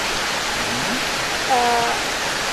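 A waterfall in a protected forest sends out a steady, even rush of falling water that fills the background, with a faint voice briefly rising over the constant roar.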